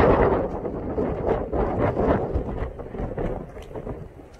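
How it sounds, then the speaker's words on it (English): Loud wind rushes and gusts outdoors, buffeting the microphone in a dense, roaring wash that eases slightly toward the end, with no voices present. "Yeah, that wind."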